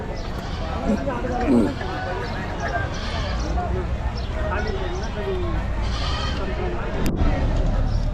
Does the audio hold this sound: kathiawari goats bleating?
yes